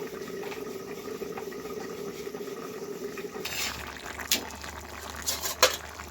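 Potato curry bubbling in a cooking pot, a steady simmering hiss under a low hum, with a few sharper clinks and scrapes near the end.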